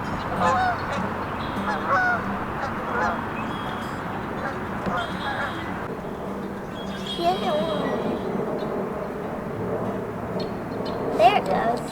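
Geese honk repeatedly in a noisy commotion outdoors in a backyard, calls rising and falling at moderate distance, with people talking over the flock.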